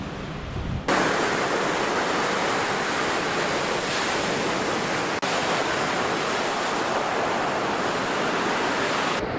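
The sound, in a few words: choppy lake waves on a pebble beach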